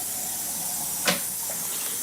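Hot water runs from a tap into a jar, a continuous hissing wash with one brief louder splash or gurgle partway through, heard alone at moderate level.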